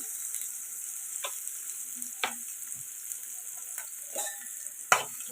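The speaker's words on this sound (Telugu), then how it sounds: "ఇప్పుడు ఇందులోకి వచ్చేసి పచ్చిమిర్చి అలాగే కట్ చేసి పెట్టుకున్న ఆనియన్స్ కూడా వేసేయాలి" Green chilies and chopped onions fry in hot oil in a pan while a chicken gravy curry is being made. A constant soft sizzle runs throughout, broken by a few sharp stirring scrapes, with no speech.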